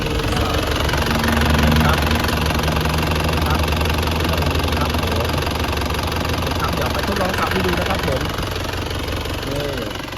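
A 1996 Isuzu TFR SLX pickup engine runs steadily for about ten seconds, a loud, close, even rumble with a knocking edge at idle and no break in it.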